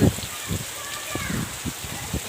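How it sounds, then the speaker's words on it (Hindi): Rain falls with a steady hiss in a heavy village downpour, beneath a person talking close by. "आज हमारे गांव में बहुत तेज़ की बारिश हो रही है"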